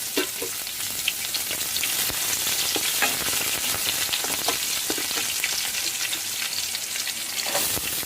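Curry leaves and green chillies crackle and sizzle loudly in hot oil with reddened chana dal and popped mustard seeds, a steady dense hiss with sharp spits throughout, no voices, while cooking a potato saagu.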